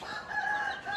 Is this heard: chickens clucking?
yes